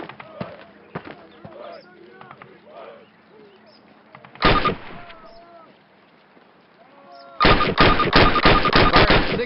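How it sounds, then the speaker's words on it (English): A rifle fires rounds at a target in a Call of Duty training range: one loud crack, then a rapid string of closely spaced shots near the end, after a stretch of talking and quiet game sounds. "Approach the fence and fire 6 rounds at your target."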